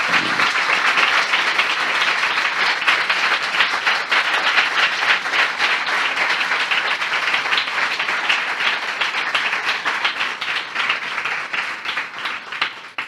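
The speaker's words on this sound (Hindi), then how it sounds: "आइए हम अपने महान प्रभु के लिए एक जोरदार ताली बजाएं।" A church congregation gives loud, sustained applause, a dense wash of many hands clapping together that holds steady for over ten seconds and tapers slightly at the end.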